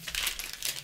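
Tape being peeled and crumpled off the packaging of a Hobby Master 1:72 Tornado model jet, a close, continuous crinkly rustle lasting under a second with no voices.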